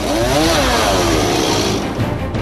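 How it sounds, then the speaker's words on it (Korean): A loud chainsaw engine drones and revs steadily, close by, cutting logs, with a harsh buzzing roar throughout. "열혈한 소리와 함께 등장한 전기톱"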